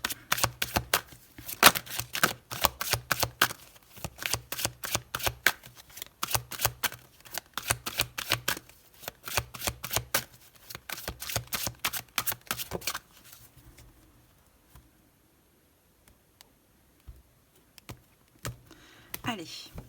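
Tarot cards being shuffled and laid out for a reading, a dense run of crisp riffling snaps and slaps for about thirteen seconds, close and fairly loud, then near silence with a few faint taps.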